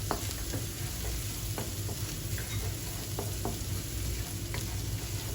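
Chopped ginger and garlic sizzle steadily in a hot pan, with a continuous close frying hiss and occasional light scrapes and knocks of stirring, and no voices.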